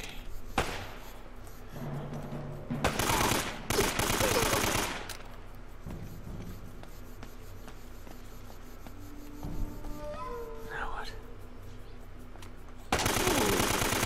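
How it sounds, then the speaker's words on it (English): Gunfire in Uncharted: Drake's Fortune, several loud bursts of rapid automatic fire separated by quieter stretches of ambient game sound, with a final sustained burst at the end. "He just started shooting."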